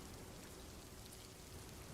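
Heavy rain pours steadily as a constant, dense hiss of drops with no breaks, fairly close and even in loudness throughout.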